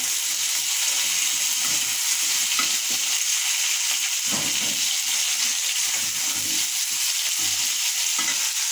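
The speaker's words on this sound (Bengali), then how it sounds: "এখানে আলু, রসুন, পেঁয়াজ, কাঁচামরিচ তেলে ভেজে নেব।" Potatoes, garlic, onion and green chillies frying in hot oil for a vegetable and egg dish, a loud, continuous hiss with occasional faint pops and stirring sounds.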